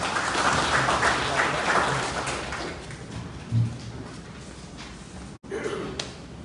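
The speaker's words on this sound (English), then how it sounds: "let us give more appropriate claps for the visit" Audience applause for a visiting lecturer at the University of Juba, a moderate spatter of clapping hands that fades and thins over a few seconds, with a brief louder burst near the end.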